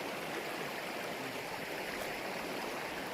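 Water rushes and gurgles steadily over rocks in a cold mountain stream, a constant close hiss with no voices.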